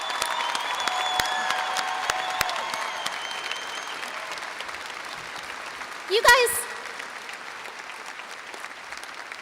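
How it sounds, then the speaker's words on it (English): Crowd at a high school graduation ceremony applauding, a dense round of clapping that gradually fades, with someone speaking briefly and a microphone thump near the end. "So let's give all of them a round of applause."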